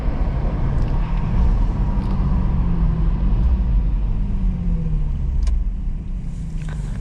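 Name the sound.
2007 Infiniti G35 Coupe engine idling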